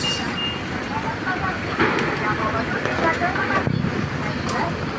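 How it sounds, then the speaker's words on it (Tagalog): Rain falls on a Hong Kong street, a steady wet hiss that runs throughout, loud and close, with brief passing traffic noise and no talk. "Kasi may ulan."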